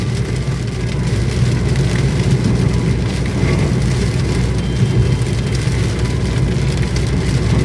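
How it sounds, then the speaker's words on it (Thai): Heavy rain pours onto a car driving along a seaside road in Ko Phet, Hua Sai district, Thailand, a dense, loud hiss layered over the steady engine and tyre roar. "ตอนนี้ก็ฝนตกหนักครับ"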